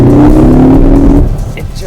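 A 2015 Ford Focus ST's engine pulls hard under acceleration, a loud, steady drone with rising tone for about a second before it eases off and fades.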